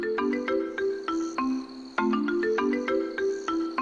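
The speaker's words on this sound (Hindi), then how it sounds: "इससे पहले हम कुछ और जानकारी लेते, स्नेक कैचर का फोन बज उठा।" A snake catcher's mobile phone rings with a bright, repeating electronic melody of short tonal notes, close and clear, cycling twice with no talk over it.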